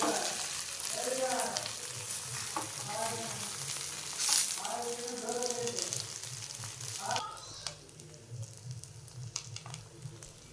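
Pitha frying in ghee in a pan gives a steady, close sizzle that runs throughout, with voice-like tones drifting over it in the first part before the frying settles quieter near the end.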